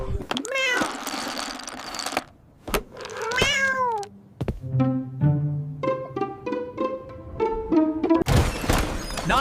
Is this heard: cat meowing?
yes